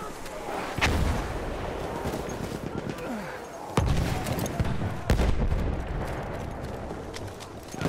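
Battlefield 1 combat with heavy booming blasts, one near 1 second and stronger ones near 4 and 5 seconds, set against constant gunfire and battle noise while soldiers shout.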